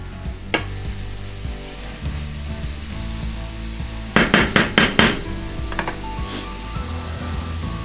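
Garlic frying in a pan with other ingredients gives a steady close sizzle, with a quick burst of five rhythmic clacks of a utensil on the pan midway and a few lighter taps, no voices.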